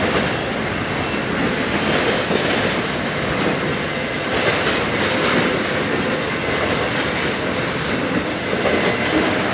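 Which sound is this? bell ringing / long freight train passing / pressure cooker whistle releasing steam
long freight train passing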